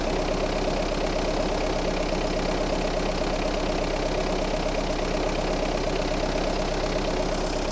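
A Mahindra ROXOR's engine idles steadily after a cold start, a constant close mechanical drone with a fine rapid ticking texture and no pauses.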